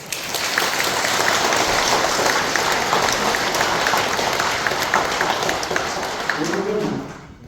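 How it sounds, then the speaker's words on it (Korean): An audience at a consecration dharma service at a Buddhist temple in New York breaks into dense, sustained applause that carries on steadily before tapering off near the end. "미국을 위해서도 박수 한번 쳐주세요"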